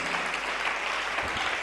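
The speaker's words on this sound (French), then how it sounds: "Acclamons pour sa gloire." A church congregation applauds in a dense, continuous burst of clapping, steady and full throughout the short moment.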